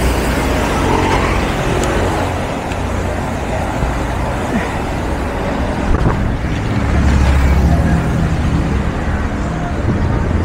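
Steady road traffic on Sumulong Highway in Antipolo, Rizal, a continuous close rumble of cars and other motor vehicles passing, swelling slightly near the end, with no talk.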